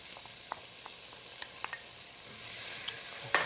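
Diced red pepper sizzling in a hot pan, a soft steady frying hiss with small crackles and pops, brightening as it is stirred around near the end.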